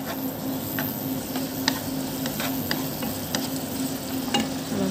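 Pork belly stir-fries over high heat in a pan, with a steady crackling sizzle throughout and light scraping and stirring taps scattered across it.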